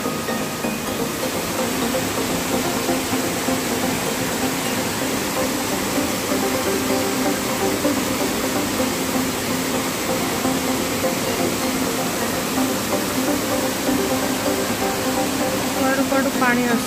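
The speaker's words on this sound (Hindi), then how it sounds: "साइड भी देखो पूरा झरना" Kempty Falls near Mussoorie, Uttarakhand, roars with a steady, dense rush of falling water heard up close and unbroken for about seventeen seconds, with a faint voice under it.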